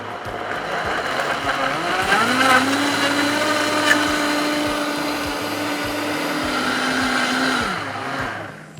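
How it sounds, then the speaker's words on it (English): A Vitamix blender making a smoothie starts on slow and ramps up to high, its motor pitch climbing into a loud, steady whir that holds for several seconds before winding down; no talking. "Now all we'll do is start our machine on slow, ramp it up to high, and run for about 45 seconds."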